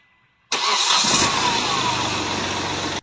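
A car engine cranks and catches after a new Amaron battery is fitted, then runs on steadily at close range, loud and alone after a brief quiet start.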